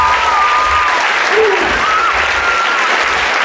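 Audience applause after a hypnosis show, a steady dense clapping from a crowd that fills the whole stretch at even loudness, with a few faint voices calling out over it.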